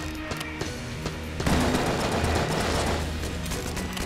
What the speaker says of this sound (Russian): Ну, последний выстрел.